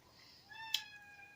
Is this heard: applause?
no